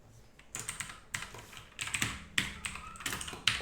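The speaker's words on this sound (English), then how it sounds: "Shit, your keyboard's loud." Loud computer keyboard typing during a Unity game-development session: close, rapid bursts of sharp key clacks in irregular clusters over about three and a half seconds, with no voices.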